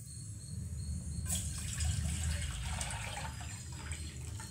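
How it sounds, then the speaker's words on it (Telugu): Water pours steadily into a cooking pot on a stove while rasam is being made, a continuous splashing, trickling flow that starts abruptly and runs on, fairly close. "ఇప్పుడు రసానికి సరిపడంగా వాటర్ వేసుకుందాం ఫ్రెండ్స్."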